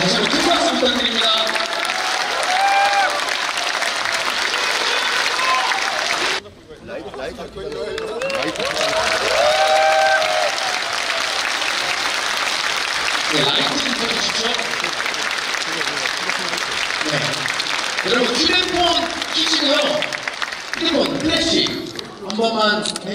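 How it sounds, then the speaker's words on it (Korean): Audience applause at a talk concert in Daegu, a large crowd clapping loudly and steadily, with a short dip partway through and a voice speaking over the noise. "다시 한번 큰 박수 부탁드립니다."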